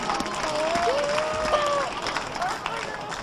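An audience at a youth boxing exhibition breaks into dense clapping that runs throughout at moderate distance, mixed with crowd murmur while an announcer's voice carries over the top.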